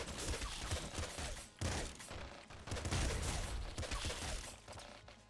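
Sustained rapid gunfire in the Nuclear Throne video game, a dense, loud barrage that runs almost unbroken with brief dips, mixed with impact and shattering noises.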